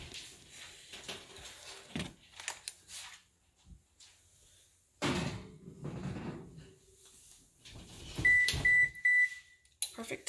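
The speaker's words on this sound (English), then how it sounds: "Now we are going to put it in the oven for a good 30 to 35" Cake being put into a home oven: door and cupboard clunks, a thud of closing, then a short series of electronic beeps as the timer is set, close by, with a person speaking in between.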